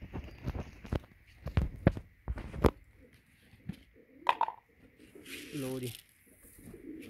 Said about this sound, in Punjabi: ਦੇਖ ਲਓ ਜੀ ਆਪਣੇ ਕਬੂਤਰ।